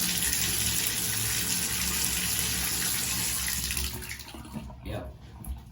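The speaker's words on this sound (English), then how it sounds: "We run the water just a little bit" Water running from a bathtub tap into a slow, partly clogged tub drain, a steady broadband rush that fills most of the clip before thinning out near the end.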